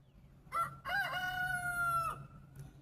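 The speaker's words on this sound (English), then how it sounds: "there's one of my roosters saying good morning" A rooster crows once at close range in the early morning, a loud drawn-out call after a short opening note, followed by a faint trailing sound and a low background hum.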